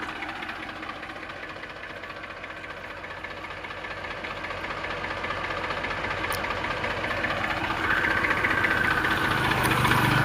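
A used 241 DI tractor with a powerful engine idles in a steady, close diesel chug that grows slightly louder toward the end, with no talking.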